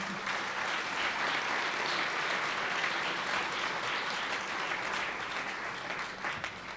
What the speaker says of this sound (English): Let's give the Borough President a big round of applause.